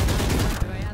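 Wallbang gunfire in the tactical shooter Valorant, a dense burst of shots over game noise during a round, with a louder crack near the end and a player's voice mixed in.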